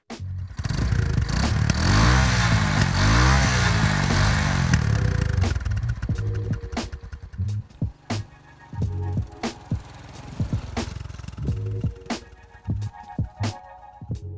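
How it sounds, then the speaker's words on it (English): A motorcycle engine revs up loudly in rising and falling surges, then settles into uneven idling with sputtering bursts and clattering. "start your motorcycle"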